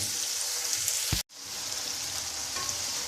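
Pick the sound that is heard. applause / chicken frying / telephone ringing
chicken frying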